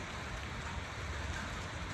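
Steady rain falling on pigeons waiting outdoors, a dense continuous hiss of drops with no talking.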